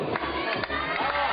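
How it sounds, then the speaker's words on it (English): An Innsbruck crowd at a women's bouldering World Cup qualification roars and cheers a climber, with a dense, sustained wall of shouting voices surging in a few loud swells. "Katherina Saurwein getting roared on for this Innsbruck crowd."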